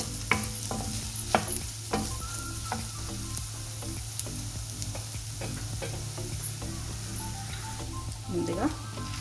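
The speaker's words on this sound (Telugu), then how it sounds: "కొద్దిగా ఫ్రై అయిందండి ఇప్పుడు పాలకూర వేసేసుకుందాం దీంట్లో" Soya chunks fry and sizzle in a pan as spinach is added for a high-protein palak curry, with steady sizzling and scraping stir strokes throughout and a voice talking over it.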